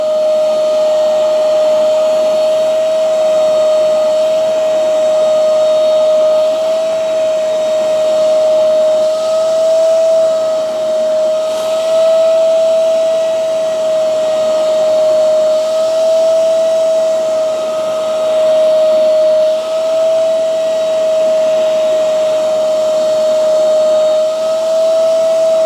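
Hoover carpet spot cleaners, a Spotless FH11300 and a CleanState Plus FH1405, running together with a steady loud motor whine and airy hiss that hold constant throughout, with no talk.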